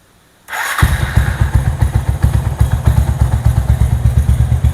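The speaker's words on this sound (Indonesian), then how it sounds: "Motor sudah bisa hidup kembali" After a brief quiet, a sport motorcycle engine cranks and fires up after a valve clearance adjustment, settling into a loud, steady, throbbing idle close by.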